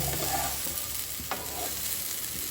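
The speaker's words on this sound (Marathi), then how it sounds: "लो फ्लेमीचेरूच न्ही सोय आमकां आतां ही भाजून घेवपाक जाय" Grated coconut roasts in a pan over a low flame, a soft continuous sizzle with scraping strokes of a stirring spoon, close up and even in level, no speech.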